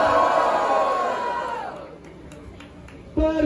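A live crowd at a regional rap battle in Batalha Da Leste cheers and shouts loudly for an MC, the roar fading out over about two seconds before a brief sharp burst of voices returns.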